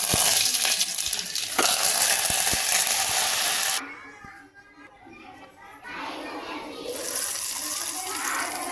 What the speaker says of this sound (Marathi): आता मोहरी टाकून घेते मी. बघू शकता, छान कडकडतात मोहरी